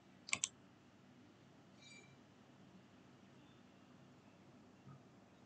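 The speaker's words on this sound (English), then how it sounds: "I will click to login" A computer mouse gives a quick double click, sharp and close, near the start of an otherwise very quiet room.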